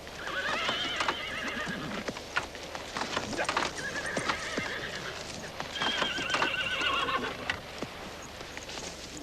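Pack horses' hooves clip-clop steadily on the ground while horses whinny loudly several times, with faint voices now and then in the background.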